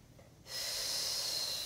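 A single long, steady breath, audible and fairly close, drawn during a posture-improving full-body workout. It begins after a brief quiet pause and lasts over a second with no talking.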